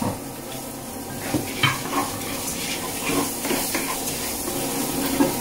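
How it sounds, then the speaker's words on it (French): Rice and butter stirred as they sauté in a pan for Turkish pilaf, a steady sizzle under soft scraping strokes of a utensil, with a few louder stirs and clinks along the way. "on va faire revenir le riz pendant 8 minutes en remuant de temps en temps"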